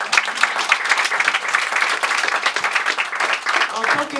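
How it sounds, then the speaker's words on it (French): Audience applause at a Women's Day political campaign event, dense continuous clapping from a crowd, fairly loud and steady for several seconds. "elle mérite un applaudissement."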